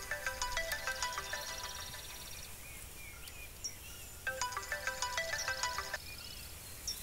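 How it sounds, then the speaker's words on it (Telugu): A mobile phone ringtone plays two bursts of bright, repeating electronic melody separated by a short pause, fairly faint against a quiet indoor background. "Sir, phone."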